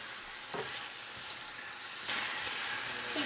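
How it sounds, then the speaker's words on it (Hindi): Chicken pieces frying in a pan over a high flame, a steady close sizzle with two brief stirring scrapes and a louder burst of crackle partway through, and no talking. "चिकन को हम कर लेंगे इस तरह से अल्टम पल्टम ताकि हमारी चिकन जो है वो फ्राई हो जाए"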